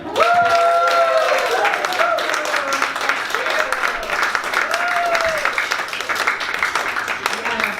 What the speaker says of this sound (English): Clap it up for Mary Hoop.